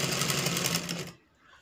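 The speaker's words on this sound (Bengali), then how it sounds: "এবার আমি সেলাই করব" A sewing machine stitching a coat-style nighty collar gives a short, quick run of rapid stitching for about a second, then stops abruptly into quiet room tone.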